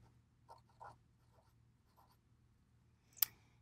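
Pencil writing a name on white paper, a few soft, quiet scratchy strokes in short bursts, then one sharper tap near the end, with a low steady hum beneath.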